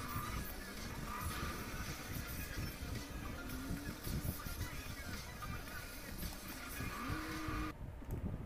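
Race cars in Need for Speed Most Wanted drone steadily with engine whine and occasional tire squeals, running loud and continuous throughout.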